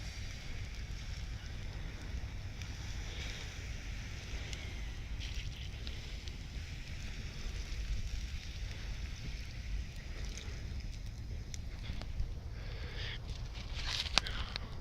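A campfire drowned with water gives off a steady, soft hiss of steam that continues unbroken for about fifteen seconds, low in level, with a few faint crackles near the end.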